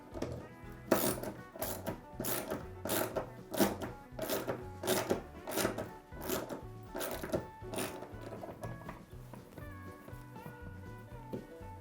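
A ratchet clicks in quick repeated bursts while tightening TV wall mount bolts into drywall, with short pauses between strokes and clear, close mechanical ticking.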